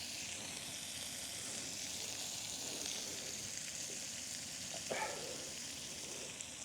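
Food sizzling in a pan on a titanium wood stove, a steady hissing crackle at moderate level with a brief stir or clink partway through, no talking.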